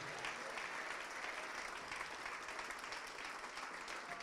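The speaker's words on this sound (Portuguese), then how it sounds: "Vamos aplaudir mais ao nome de Jesus" A church congregation applauds steadily and continuously, a dense, even wash of many hands clapping throughout with no pauses.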